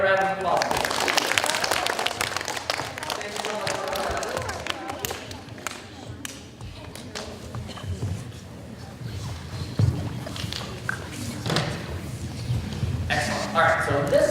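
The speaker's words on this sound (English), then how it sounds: "a round of applause" Audience applause at a Museum of Science presentation, right after a loud leaf blower demonstration; a dense wash of clapping from a crowd fills the room, swelling and easing over several seconds, with some voices mixed in.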